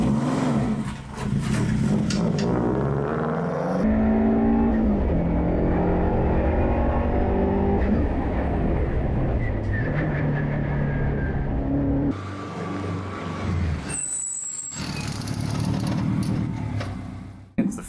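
A race car laps High Plains Raceway, its engine loud and close as it climbs and shifts through the gears, then a sharp cut and a fresh run at full throttle.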